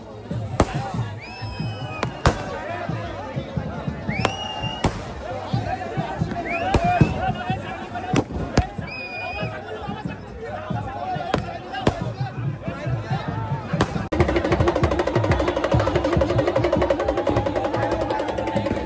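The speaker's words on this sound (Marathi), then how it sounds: "लोक बघा खाली विले बॉम्ब लावत आहेत." Firecrackers set off by people at a Bahiri Dev palanquin procession, sharp irregular bangs and pops with crowd noise, later a dense rapid crackling burst, people talking throughout.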